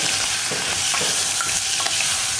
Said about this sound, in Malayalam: നമ്മൾ കട്ട് ചെയ്ത് വെച്ചിരിക്കുന്ന സവോളയും പച്ചമുളകും ചേർത്ത് ഒന്നുകൂടി ഇളക്കുക